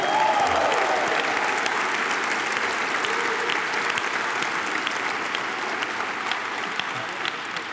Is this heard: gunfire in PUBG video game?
no